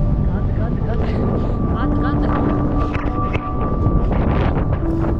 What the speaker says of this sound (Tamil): காத்துனா காத்து செம்மா காத்து